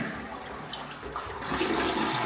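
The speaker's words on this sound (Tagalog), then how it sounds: "Tapos, lastly, eto, kung nagpa-flush." Toilet flushing in a newly turned-over house, a steady rushing and gurgling of water that swells louder toward the end, close and continuous, with no speech.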